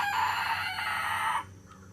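A rooster crows near a backyard chicken coop, one loud, sustained call lasting over a second before it cuts off to quieter background noise.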